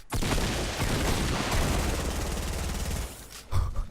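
Rapid automatic gunfire in the Fortnite video game, a dense, sustained burst of shots lasting a few seconds, loud and close, followed by a short final report.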